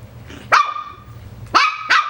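Three sharp, high-pitched yaps from a Coton puppy ring out near and loud, the first alone and the last two in quick succession, over a faint low background.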